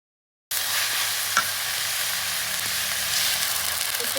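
Spices fry in a pan over a clay stove with a steady, close hiss of sizzling oil that starts abruptly and holds even throughout, with one brief clink partway through.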